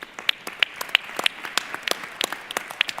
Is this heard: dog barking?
no